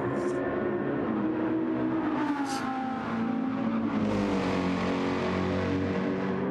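Race car engine in a racing game on a reverse Sardegna circuit, roaring steadily throughout with shifting pitch as it revs and changes gear, loud and close, with no talk over it.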